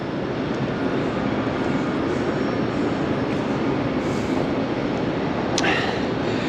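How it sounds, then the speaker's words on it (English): Steady, loud rumble of a train at Southern Cross Station in Melbourne with broadband rail noise throughout, a brief high screech near the end; no talking. "Southern Cross Station, newest train station in Melbourne."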